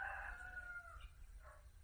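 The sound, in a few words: rooster crowing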